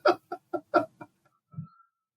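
A person mimics bird calls, a run of five quick chirping, clucking bursts followed by a brief softer call, close and clear in a quiet room, with no other talking.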